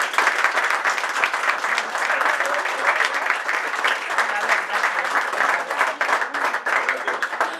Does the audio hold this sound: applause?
yes